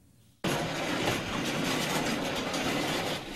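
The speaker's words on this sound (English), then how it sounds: "to stop a coal train in Harvard" A loaded coal train rolls past on the railway tracks after a sudden onset, with a loud, steady, broadband rumble and faint rhythmic clatter of wheels for the rest of the stretch, close by and without any talking.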